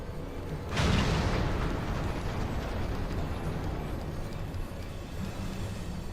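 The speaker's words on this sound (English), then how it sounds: "All cannons return fire." Ship cannons and explosions in Final Fantasy XIV open with a heavy boom, then a dense, continuous roar of battle noise and rumble that holds steady to the end.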